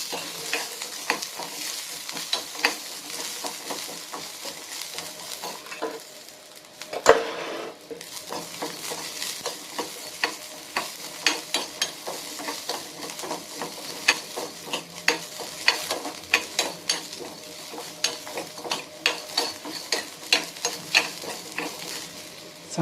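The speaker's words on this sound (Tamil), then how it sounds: "வெங்காயம் நல்லா வதக்கணும் மக்களே" Small onions and garlic sauté in a pan for spinach thokku: a constant close sizzle under repeated scraping spatula strokes, with one heavier knock partway through and no talking.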